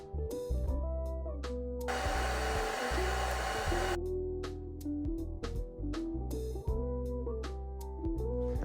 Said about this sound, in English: put the hair dryer to it